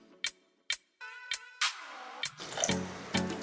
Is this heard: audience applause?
no